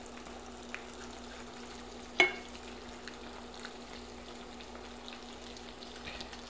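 Tilapia fillets fry gently in butter in a pan, giving a soft, steady low sizzle with faint crackles throughout and one brief sharp clink partway through, no voices.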